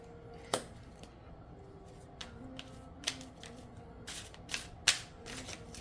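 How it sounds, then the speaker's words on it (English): Playing cards shuffled by hand, with scattered crisp riffles and sharp snaps spread through a quiet room and a faint steady hum beneath. No one speaks. "I'm going to shuffle one more time."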